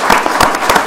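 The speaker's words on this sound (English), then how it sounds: "Why don't we give them a little round of applause" A small audience at a city candidates' forum claps briefly, a loud burst of uneven hand claps lasting about a second with no talking.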